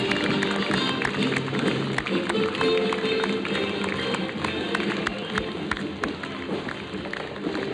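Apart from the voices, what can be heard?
applause for US Marine Corps float at Tulip Time parade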